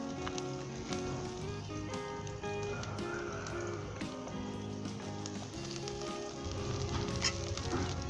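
Green chillies frying in hot oil with pomegranate seeds for an okra curry, a loud, close, steady sizzle with dense crackling pops and spatters throughout, with no voices.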